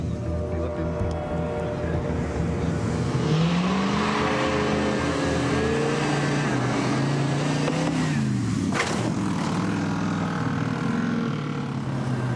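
A stunt car engine revs continuously during a test run for a film stunt on The Punisher, loud and close, its pitch rising and falling through gear changes under a dense, steady roar with people talking.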